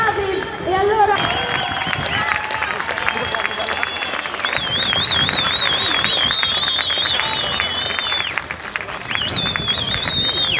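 Crowd applause and cheering at a freestyle motorcycle show in Rome, dense and sustained for several seconds, with a loud announcer's voice and music-like tones running over it.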